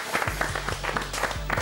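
A television studio audience applauds on a talk show set, a dense, steady wash of clapping that fills the moment with no talk over it.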